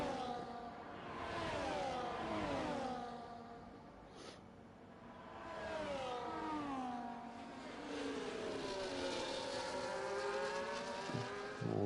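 Formula 1 race cars, a Red Bull and a Ferrari, in a Hungary race of a racing video game, engines wailing and shifting pitch as they rev and overtake, loud and continuous throughout.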